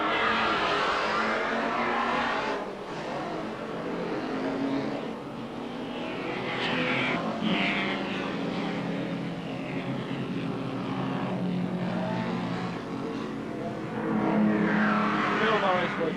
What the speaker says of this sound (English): Now, car 78 is Kevin Shearer in the A model Ford.